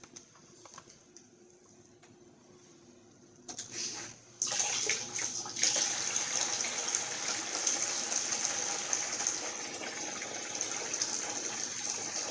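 Water gushing through a 2012 Chrysler 200 3.6 heater core from a flusher, starting quiet then surging into a steady, fairly loud rushing flow after a few seconds.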